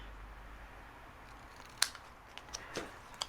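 Paper snips make a few short, faint snipping clicks while cutting paper scraps for a handmade holiday card, in a quiet room with no talking.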